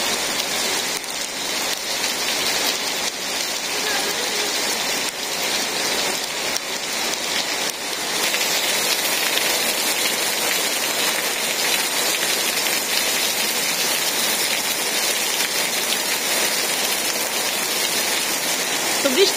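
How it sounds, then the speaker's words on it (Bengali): Heavy rain pours steadily on a village, a dense continuous hiss of drops drumming on roofs and ground, loud and close, with no break for the whole stretch. "বৃষ্টি ভালোই নামছে"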